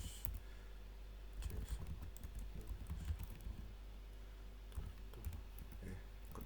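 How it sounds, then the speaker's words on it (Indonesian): Typing on a computer keyboard, close clicks in quick irregular bursts with short pauses, over a low steady background hum and no speech. "kita ngetik gini aja"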